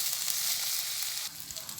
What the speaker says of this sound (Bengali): এই মরিচগুলো একটু ভাজা করে নিলাম, একটু লাল করে ভেজে নিলাম